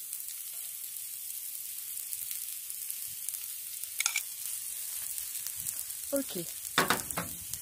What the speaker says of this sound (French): Allez, un peu d'huile sur la plancha. Et on va faire revenir nos oignons